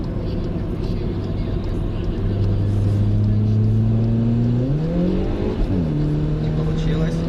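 A Skoda Rapid engine drones loud and close, then revs hard and climbs in pitch as the wheels spin. The pitch drops sharply with a gear change and settles back into a steady pull.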